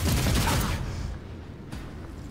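A short loud burst of game gunfire in Warhammer 40k Rogue Trader, a dense volley of rapid shots that fades into lower rumbling, with no talk over it.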